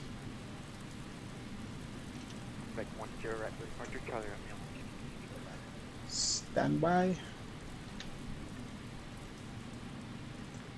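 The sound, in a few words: rain in video game Microsoft Flight Simulator 2020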